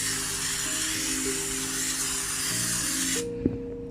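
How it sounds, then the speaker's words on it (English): A continuous hiss of a cooking oil spray can, held for about three seconds, then cut off, followed by a small knock. "So first I'm going to spray a little bit of oil."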